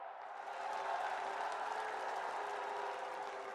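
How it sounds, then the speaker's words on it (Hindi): An audience applauds steadily to welcome the Indian Prime Minister at a public development event in Kushinagar, Uttar Pradesh, a dense, even wash of clapping that swells quickly and holds. "आप सब तालियों के पुष्पों से उनका स्वागत करेंगे।"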